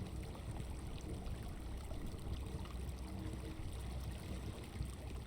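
Water from a glass-floor waterfall in the video game Creativerse trickles and splashes in a steady, moderately quiet stream with no voices.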